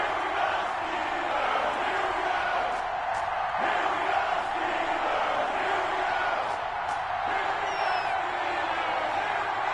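Steady stadium crowd roar with scattered cheers and whoops from an EA Sports NFL video game broadcast of the Cleveland Browns versus the Pittsburgh Steelers, a dense continuous wash of noise throughout.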